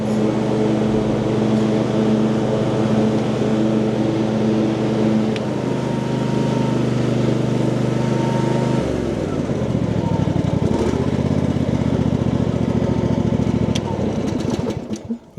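A Cub Cadet ride-on lawn mower engine runs loud and steady throughout, a smooth continuous drone whose pitch shifts down partway through as the revs change.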